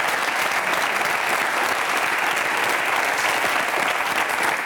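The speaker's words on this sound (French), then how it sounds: "Des applaudissements pour Arnaud, le pauvre qui est tout seul derrière" A TV studio audience applauds steadily, a dense, even wash of clapping that holds at full strength throughout without any voices over it.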